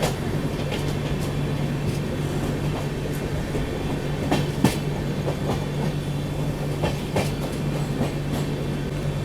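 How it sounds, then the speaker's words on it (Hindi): Mumbai Rajdhani Express running on rails as it slows near Chalisgaon Junction, a loud continuous rumble inside the train with a steady hum and scattered clicks of wheels over rail joints. "स्लो डाउन हो गई है यहाँ पे ट्रेन थोड़ी।"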